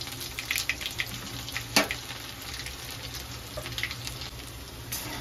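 Curry leaves and chopped garlic sizzle in hot oil, a steady, soft crackling hiss with small pops and one sharper spatter, heard close and alone without talk.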